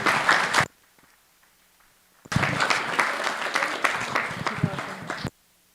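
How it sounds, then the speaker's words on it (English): At a meditation center's eighth anniversary announcement, a short burst of applause is cut off, followed by a pause, then a longer, fuller round of clapping from a group that ends abruptly. "So could we have a round of applause?"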